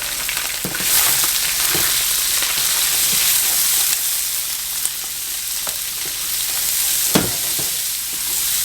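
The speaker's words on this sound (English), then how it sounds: "And now to this oil we're going to add our jalapenos and our onions." Jalapeños and onions fry in hot oil left from cooking chicken, a loud, continuous close sizzle with occasional crackles and a few sharp clicks of a utensil against the pan.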